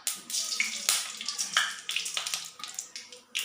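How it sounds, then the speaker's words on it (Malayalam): Mustard seeds spluttering in hot coconut oil in a pan for a banana flower thoran, giving a close, busy crackle of sharp pops and sputters that keeps going without a break, with no one talking. "കടുക് ഇട്ട് കൊടുക്കാം"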